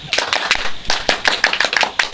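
An audience at an evening talk gathering in Jogja performs a scout-style rhythmic clap, crisp grouped hand claps in a quick patterned beat, fairly close and loud, with some vocal sounds mixed in.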